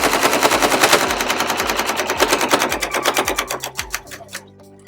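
Sewing machine running a decorative topstitch a quarter inch beside a patchwork seam on a scrappy zipper pouch, a fast rattling burst of needle strokes that slows into distinct clacks before stopping.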